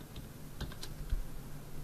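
Keys tapped on a computer keyboard while entering a block name in AutoCAD, a few quiet, scattered clicks over a low background hum, with no talking.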